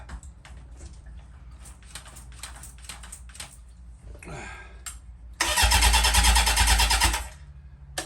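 A Honda 750-4 motorcycle engine that has not run in a long time is cranked by the starter, with clicks and brief churning before a loud sustained grinding crank that stops abruptly, no voices.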